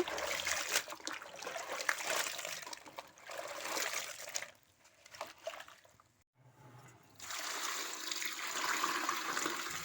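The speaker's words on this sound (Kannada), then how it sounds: "ಈ ಥರ ಎಲ್ಲನೂ ಕೈ ಆಡಿಸ್ಕೊಂಡು ತೊಳಿಬೇಕ್ರಿ" Sliced potato chips for homemade bakery-style aloo chips being washed by hand in water, with sloshing, splashing and trickling that swell and fade in waves, dropping to a brief near-silent pause before resuming, close with no talking.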